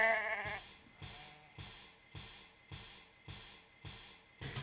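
Sheep bleating, one loud wavering bleat at the start followed by a regular series of evenly spaced pulsing bursts, close and moderately loud, with no voices.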